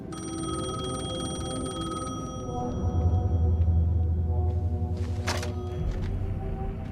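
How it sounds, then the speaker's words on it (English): A payphone rings in the video game Alan Wake II, a steady electronic ringing tone held over a low droning ambient background, with no talking. "The payphone was ringing."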